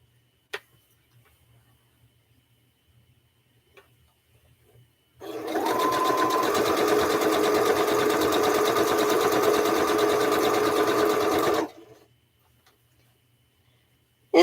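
A sewing machine stitches quilt binding onto the back of a table runner, running in one steady, continuous burst of about six seconds, with quiet room sound before and after.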